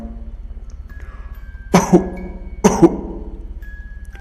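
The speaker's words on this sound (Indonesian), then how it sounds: "aku mendengar suara kakek-kakek yang sedang batuk dengan sangat keras sekali" Two loud, harsh coughs from an old man ring out close by, a second apart, over a low rhythmic background hum.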